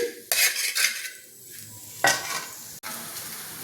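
Egg fried rice being stir-fried in a pan, with a spatula scraping and stirring in bursts over a steady sizzle, metal utensil clatter and a sharp knock near the end, close and fairly loud.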